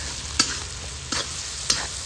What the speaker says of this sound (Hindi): इसमें हम थोड़ा नमक डाल कर पकाएंगे ताकि जल्दी पक जाए, प्याज अच्छे से गल जाए।